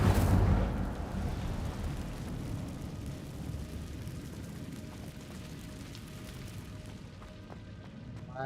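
An Incendio fire spell is cast in Hogwarts Legacy inside a cave, a loud whooshing burst at the start that settles into a sustained, fading roar of flame.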